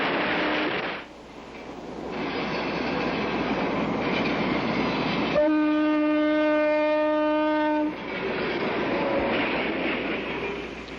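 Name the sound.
automatic freight train running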